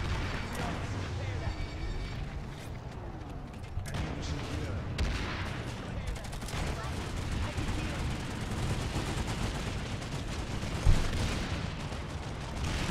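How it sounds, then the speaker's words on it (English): Planetside 2 gunfire rattles continuously in rapid bursts alongside distant booms and a sharp blast near the end, with a player talking over the din. "I shot at something!"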